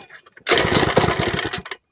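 A mini bike's small engine cranks and sputters loudly for just over a second during a start attempt, then cuts out into silence.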